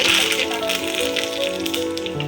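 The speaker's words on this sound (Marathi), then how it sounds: "तेल आपलं कडक तपल्यानंतर आपण त्याच्यावर त्याच्यात आपण अर्धा चमच मोहरी टाकूया" Half a spoon of mustard seeds dropped into hot oil for dhokla tempering, giving a dense, close sizzle with steady crackling and spitting that carries evenly through the whole moment, heard without talk.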